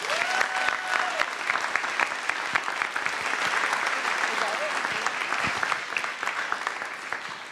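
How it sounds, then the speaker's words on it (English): Sustained applause from a large audience fills a student convocation honoring César Chávez, steady and dense throughout, with faint voices and a few cheers mixed in. "give yourselves like a round of applause"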